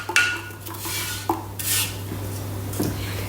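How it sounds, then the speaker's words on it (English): A spatula scrapes around the inside of a Thermomix bowl, making a few close clinks and scrapes over a low steady hum, with no talking. "I'm going to scrape this out really well"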